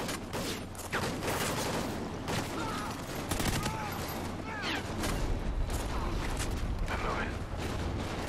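Dense bursts of gunfire from Call of Duty Ghosts campaign combat, sustained rapid shots and booms running throughout at steady loudness, with some voices mixed into the battle noise.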